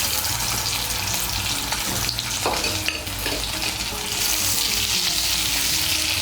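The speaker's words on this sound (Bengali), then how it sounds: "এই তেলের মধ্যে আমি আলুগুলো ভেজে নেব।" Boiled, cut potato pieces fry in oil in a pan with a continuous loud sizzle. Scraping and stirring of a spatula against the pan mixes in throughout.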